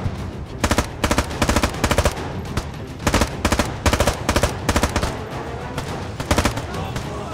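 Automatic rifle fire in the military shooter game Squad, loud and close, coming in repeated short rapid bursts with brief gaps between them for several seconds.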